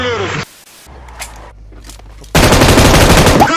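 Video game gunfire erupts as a loud, continuous automatic burst in the last second or so, after a quieter stretch of faint noises, with casual talk heard alongside.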